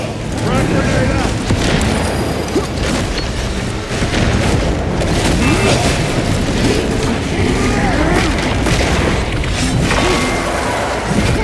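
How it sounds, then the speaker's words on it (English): Frag grenade blast amid continuous gunfire and combat in the video game Space Marine 2, loud and dense throughout, with booms layered over a busy battle mix. "Frag grenade out!"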